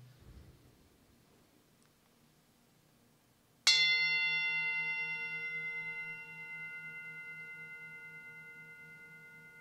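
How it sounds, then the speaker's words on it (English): A single bell strike rings out clearly and sustains with a long, slowly fading shimmering tone in a quiet room. "May the sound of this bell permeate every corner of the universe."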